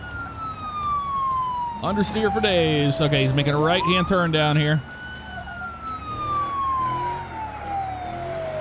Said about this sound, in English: Siren on. We're in pursuit.